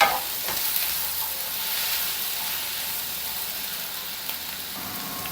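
Tomatoes and green chillies fry in hot oil for a bottle gourd chutney, giving a steady close sizzle with faint stirring, and no voices.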